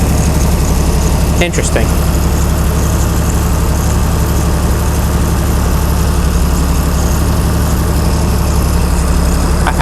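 Chrysler Slant 6 generator engine fitted with Holley Sniper EFI idles near 700 rpm, a steady low rumble running throughout, with a brief clatter early on and someone talking over it.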